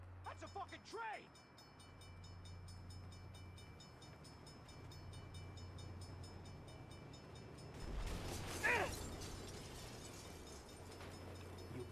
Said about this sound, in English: That's a fucking train!